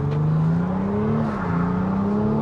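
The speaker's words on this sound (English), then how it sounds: "so we're in Sport Plus, and I am just going to see what a sort of launch is like" A BMW X5 M50d triple-turbo SUV with 380 bhp launches hard in Sport Plus mode, its engine note a loud, steady drone that climbs slightly as it pulls, heard from inside the cabin with no talking.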